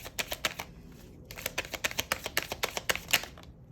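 Tarot cards are shuffled in a quick run of crisp riffling snaps, with a brief pause before a second burst, close and fairly quiet, with no voices.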